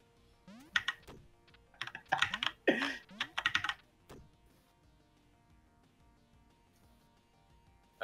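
Computer keyboard keys clatter in quick clustered bursts during a Duck Game session, close and fairly soft, mixed with brief chirpy game sounds and then a long quiet stretch.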